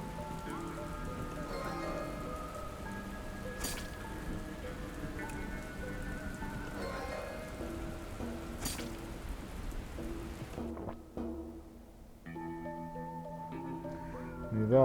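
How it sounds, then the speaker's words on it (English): Heavy rain in the Dustland Delivery video game, a steady dense patter that runs the whole time under tonal game music, briefly thinning near the end before resuming. "Okay, we'll take 6 hours of heavy rain."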